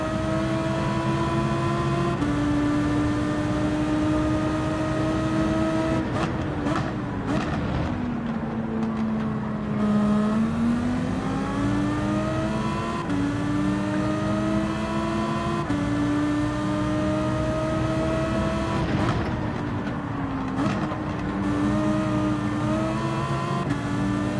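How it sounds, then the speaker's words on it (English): Race car engine in Gran Turismo 7 revving hard and steadily through a race, pitch rising and falling with gear changes and throttle, loud and continuous with no talk. "Keep the revs up, keep the revs up."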